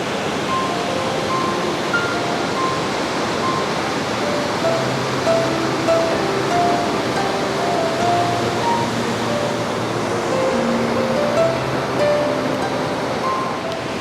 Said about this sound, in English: It's the noise of the water is unbelievable, how loud it actually is.